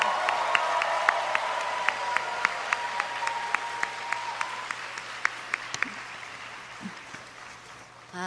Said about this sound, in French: j'aimerais que vous applaudissiez pour elle